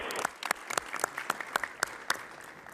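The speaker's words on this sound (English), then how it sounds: "let's have a round of applause" A modest round of applause from a conference audience for Dr. Kopacka after a coronavirus presentation, with fairly distinct, rhythmic claps from a smaller group, moderately loud and unaccompanied by talk.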